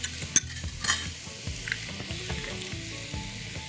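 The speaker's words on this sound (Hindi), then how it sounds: "नाउ एग्स को हम पकाएंगे लिटिल बिट मोर मार्जरीन में" Eggs cooking in margarine in a frying pan give a steady, close sizzle, with a few scraping stirs and light utensil taps across the short stretch.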